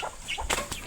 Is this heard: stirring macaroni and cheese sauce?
no